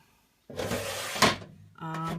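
A craft-studio cabinet drawer is pulled and pushed, giving a sliding rumble, a sharp knock and then a second slide, close and fairly loud in a quiet room.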